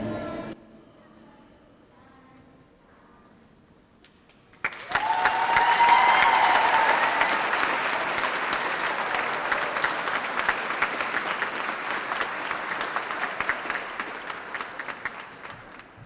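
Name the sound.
crowd applause in rotunda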